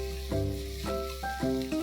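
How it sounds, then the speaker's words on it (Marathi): Ginger paste and garlic paste sizzle in hot oil with fried onion for bajra khichdi, a steady close frying hiss with short stirring scrapes. "त्याच्यात आपण आता 1 टीस्पून आल्याची पेस्ट आणि 1 टीस्पून लसणीची पेस्ट घालूया आणि कच्चा वास जाईपर्यंत परतून घेऊया"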